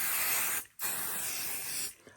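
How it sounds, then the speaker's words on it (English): Basting spray hisses from a can onto foam padding for a notebook carrying case, two steady bursts separated by a brief pause, close and fairly loud with no talk. "I'll go ahead and use a basting spray and just do a little bit of spraying."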